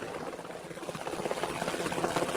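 Cartoon helicopter flying in a Thomas the Tank Engine episode, a steady rotor chop with a rising, throbbing engine drone that stays dense and fairly loud throughout, with no talk over it.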